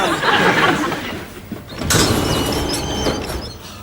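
Faulty automatic sliding doors at a leisure centre on opening day give a loud whoosh and mechanical rattle near the start, then a sharp clunk and further scraping movement, with a faint murmur of people in the background.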